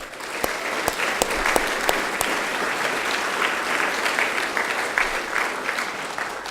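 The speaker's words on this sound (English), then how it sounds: "Let's give Manny another big round of applause." Sustained audience applause at a 2018 State of the City address, a steady wash of many hands clapping with a few sharp close claps near the start, continuing evenly throughout.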